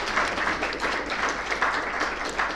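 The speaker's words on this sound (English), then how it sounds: "If you'd like to join me in giving Michael a round of applause for what a great session" A conference audience gives steady, moderately loud applause after a session on big data and theology, a dense even patter of many hands throughout.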